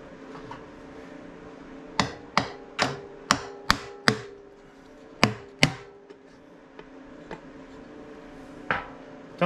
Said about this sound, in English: Keep jiggling around and tapping on it.